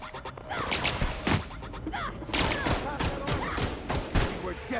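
Rapid bursts of gunfire from The Outer Worlds video game crackle in quick, repeated volleys of sharp shots, fairly loud and dense across the whole stretch.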